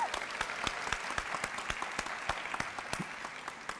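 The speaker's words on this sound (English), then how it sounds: "Let's give them a round of applause." Steady applause from an audience at a Women's Equality Day gathering held by a Mayor's Office for Women, dense clapping with sharper individual claps, no voices, lasting about four seconds.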